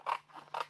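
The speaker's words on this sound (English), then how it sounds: "So let's just come in and actually cut the center out." Scissors cut the centre out of white cardstock in two quick, crisp snips, close and clear with no talk over them.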